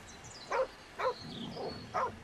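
Short dog barks from a puppy in the video game Baldur's Gate 3, three clear yips spaced about half a second apart over faint background game sound.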